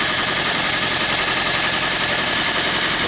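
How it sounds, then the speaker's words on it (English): A 2012 Toyota Prius C with a P0560 low-voltage fault runs steadily, giving a constant broadband engine and mechanical hum with no talk over it. "And here the vehicle running."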